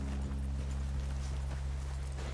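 Horses walk in Red Dead Redemption 2, with faint clip-clop hoofbeats over a low, steady hum throughout.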